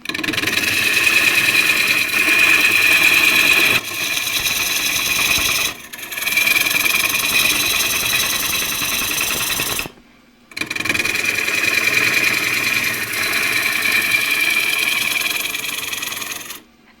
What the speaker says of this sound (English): Coming across the foot with the bowl gouge, squeeze the tool in.